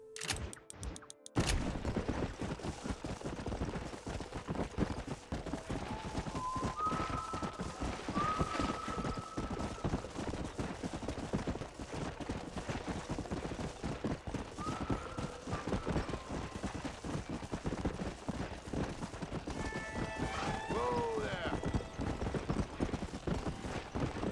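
Horse hooves clip-clopping at a steady trot in the open-world western game Red Dead Redemption, the unsaddled horse's footfalls continuous and fairly close for the whole stretch, with faint game ambience and brief tonal cues over them.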